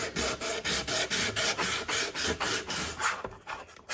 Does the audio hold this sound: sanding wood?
yes